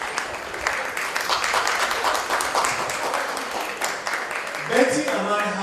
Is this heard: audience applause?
yes